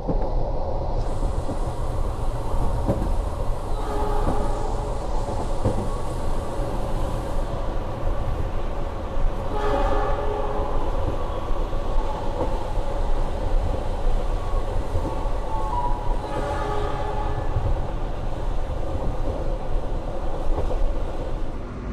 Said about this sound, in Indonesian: Keretanya udah telat, baru juga berhenti, udah mau berangkat lagi ya.